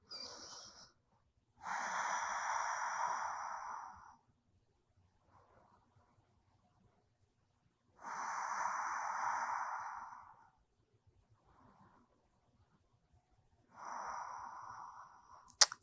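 Slow, deep breaths during a yoga routine: three long, soft, airy exhalations spaced several seconds apart, close and alone, with faint quieter inhalations in the gaps.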